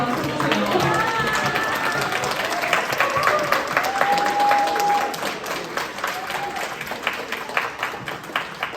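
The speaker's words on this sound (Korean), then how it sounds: "박수 한 번만 해주세요." An audience at a high school graduation ceremony breaks into loud, close applause that swells and then gradually thins into scattered claps, with voices speaking over it.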